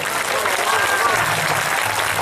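At a Hindi poetry gathering held for a Durga festival in Suhela, an audience applauds a recited poem with a continuous, even wash of clapping, and a voice sounds faintly beneath it.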